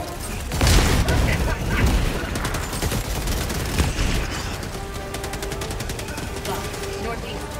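Grenade blasts and rapid gunfire from a Helldivers 2 battle: heavy booms early on, then sustained automatic bursts of fire, loud and close, with chaotic combat noise throughout.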